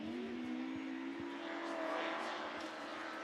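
Autograss Class 3 race cars in a runoff at a Scunthorpe track, engines droning at a distance with a rising then steady pitch, faint and continuous.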